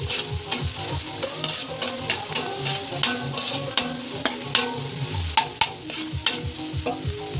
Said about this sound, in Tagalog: Sunod na natin ang sibuyas mga idol, mga pobre. Lutuin natin ng mga ilang segundo.